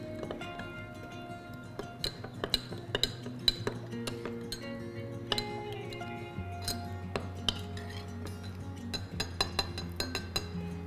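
A spoon stirs agar-agar dissolved in plain water inside a glass, giving many sharp, bright clinks at an irregular, fairly quick rhythm, close and clear over a quiet background hum.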